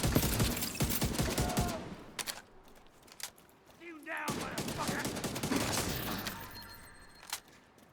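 Rapid gunfire in a shooter video game, bursts of automatic shots crackling in clusters with pauses between, fairly close and loud.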